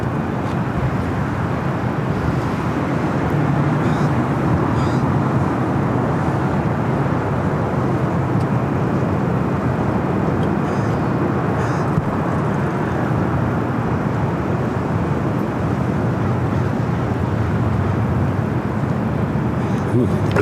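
An airliner at Los Angeles LAX airport makes a steady, broad roar that holds for the whole stretch, distant and unbroken, with no other sound standing out.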